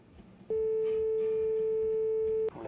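In the video game My Winter Car, a phone line gives one steady, clear tone that holds for about two seconds before cutting off, over faint room noise.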